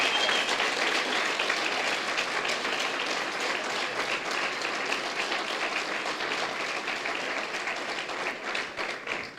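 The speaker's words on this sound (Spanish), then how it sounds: "Dale un fuerte aplauso al Señor." A church congregation gives a long, loud burst of dense applause, the claps merging into a continuous wash that fades slightly toward the end.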